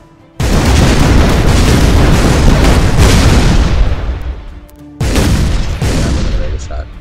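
A tank shot in ShellShock Live lands with a loud, close booming explosion that rumbles on for several seconds and fades, then a second blast hits, with no voices over it.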